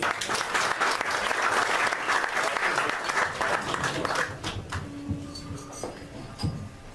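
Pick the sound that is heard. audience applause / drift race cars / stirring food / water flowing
audience applause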